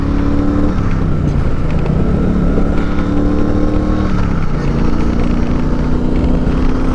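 Triumph Speedmaster 1200cc motorcycle engine while riding, loud and close, with the pitch rising and dropping through several gear changes over constant rushing road and wind noise.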